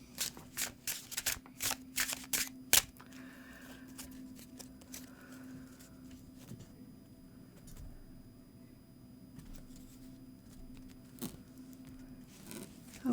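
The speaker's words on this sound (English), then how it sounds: "I'm going to go ahead and shuffle" Tarot cards are shuffled by hand in a quick run of close, crisp riffling bursts, then fall to quiet handling and faint rustles in a calm indoor room.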